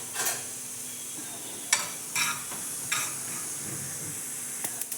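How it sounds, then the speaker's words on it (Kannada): White sesame seeds roasting in a little oil in a pan, giving a soft, steady sizzle with a few brief stirring scrapes and clinks spread through. "ಎಳ್ಳು ಹುರ್ಕೋತಾ ಇದ್ದೀನಿ."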